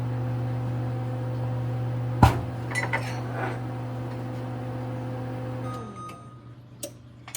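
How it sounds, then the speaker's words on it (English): A steady electric hum drones from a running microwave melting butter, broken by a sharp clatter and a few small clinks before the motor winds down near the end. "So, I got my butter in the microwave right now, getting melted."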